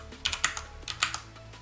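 A quick run of keystrokes on a computer keyboard, about ten soft clicky taps in an uneven typing rhythm, close and fairly quiet over a faint electrical hum.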